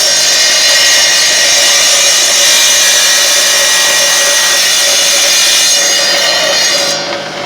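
A power saw cutting a workpiece to length, a loud continuous high-pitched whine holding steady for several seconds before tapering off near the end.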